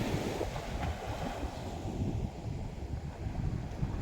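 Sea surf rolling onto a shore, a steady broadband wash with wind buffeting the microphone, no voices.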